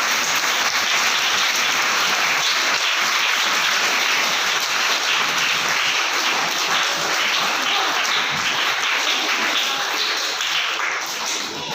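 A school audience at a Hindi Diwas function claps for a student, producing loud, dense, sustained applause that runs unbroken for the whole stretch like a steady roar of many hands.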